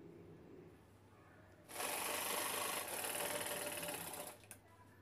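A sewing machine stitches lining onto fabric above a zip, running in one steady, close, continuous burst for a few seconds before stopping, with quiet room noise around it.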